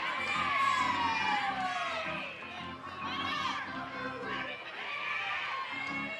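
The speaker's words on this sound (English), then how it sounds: "Applause from the Washington fans here." Fans cheer and shout in the stands at an NCAA softball game between Washington and McNeese. The crowd is a continuous, lively mix of high-pitched shouts and chatter, with no distinct clapping.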